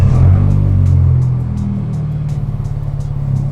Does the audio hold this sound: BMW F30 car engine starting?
yes